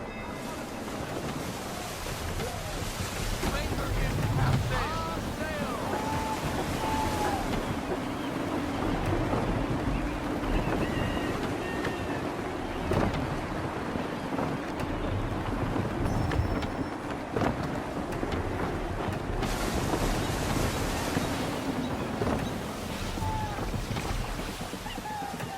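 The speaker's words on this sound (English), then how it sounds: "Gusty winds can be difficult to manage." Gusty wind and breaking waves roar steadily around a sailing ship in the video game Assassin's Creed III, a dense, continuous wash of surf and wind buffeting with no pause.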